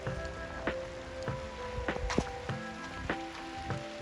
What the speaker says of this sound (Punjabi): بارش ਹੋ ਗਈ